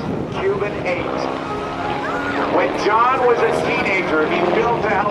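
Radial engine of a Stearman biplane flying a square loop at the 2012 NAS Oceana airshow, a steady droning with pitch sweeping up and down through the manoeuvre, heard under continuous commentary over wind noise.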